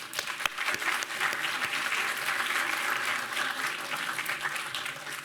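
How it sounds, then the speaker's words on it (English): Sustained applause from an audience fills the room, dense clapping holding steady before easing slightly toward the end. "give yourself a round of applause for being here"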